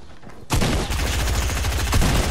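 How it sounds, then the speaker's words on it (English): Rapid automatic gunfire in the Fortnite video game bursts in after a brief quiet moment and continues as a dense, loud, sustained rattle of shots close up. "He's shooting at me."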